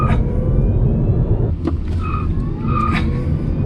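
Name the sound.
Hyundai Kona EV wheelspin, tires squealing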